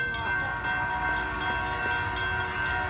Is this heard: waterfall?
no